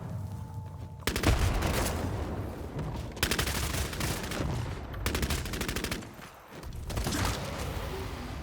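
Gunfire and grenade-launcher blasts in the Bloodhunt battle royale video game: loud, dense bursts of rapid shots in several long volleys, broken by short pauses, with no talk over them.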